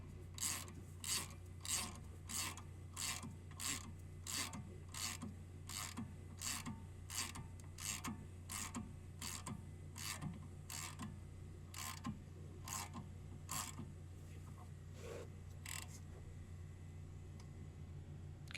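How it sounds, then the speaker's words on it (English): Tesla Model Y rear axle shaft being worked out of its housing, a steady series of rhythmic metallic rasping clicks over a low hum, fading toward the end as the shaft separates. "just keep that going until you hear the noise when it separates."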